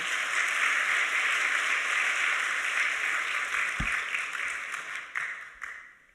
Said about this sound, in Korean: 우리 목사님 나오실 때도 따뜻한 사랑의 박수로